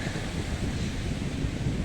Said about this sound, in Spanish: olas tremendas.